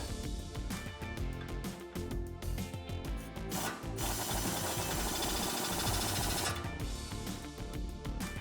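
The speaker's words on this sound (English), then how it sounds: "now we're going to retighten a castle nut here in the top of our steering knuckle using a 19 millimeter socket" A socket wrench with a 19 mm socket retightening a castle nut on top of a Toyota Tundra steering knuckle during a lift install: close, busy metallic ratcheting and rasping clicks, with a brief steadier grinding stretch in the middle.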